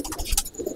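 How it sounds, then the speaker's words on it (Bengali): Short low coo from an ablak (abluk) pigeon inside a pigeon loft, a couple of soft murmuring pulses at close range with no talk. "এটা দোয়াজ পায়রা, আবলুক পায়রা।"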